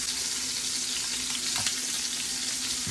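A pork chop frying in oil and Kerrygold butter on its second side, giving a dense, steady close sizzle that holds throughout with only slight crackles, no voices.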